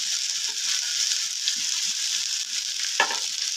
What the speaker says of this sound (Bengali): একটি টমেটোকে এইভাবে রাইস করে কেটে যাতে টমেটো বেগুনের সঙ্গে ভাজা করে নিতে পারি